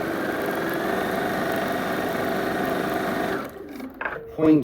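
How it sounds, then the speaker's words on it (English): A sewing machine runs steadily while stitching along a quilt strip, a continuous close mechanical whir that stops abruptly near the end, followed by a few brief faint handling sounds. "So I'm going to go ahead, start a little bit into the strip, sew on the line"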